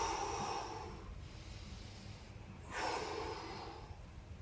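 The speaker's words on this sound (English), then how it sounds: "Take a big breath in." A deep, breathy inhale taken during a seated chiropractic stretch with one elbow lifted toward the ceiling, heard as two soft airy rushes of breath close to the microphone with no talking.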